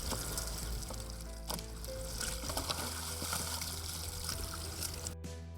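Water flushes out through the opened bottom valve of a drip irrigation pipe, a continuous splashing trickle over a low mechanical hum, fairly close and unbroken by speech.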